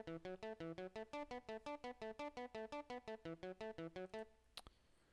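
A gritty, distorted lead synth fires off a rapid, even stream of short staccato notes at low level, then stops, leaving a single sharp click and faint hiss.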